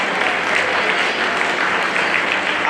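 Loud, dense applause from a Sunday School Day gathering welcoming the chief guest, sustained clapping from a crowd that fills the whole moment.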